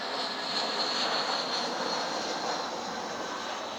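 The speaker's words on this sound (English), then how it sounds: "sorry about the aeroplane noise." A steady, broad engine roar from an airplane overhead holds for the whole stretch, loud and even with no break.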